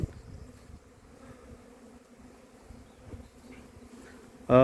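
Honeybees buzz around the hives of a spring apiary beside a flowering rapeseed field, a faint continuous hum with scattered passing drones, ending in a sudden louder tonal burst.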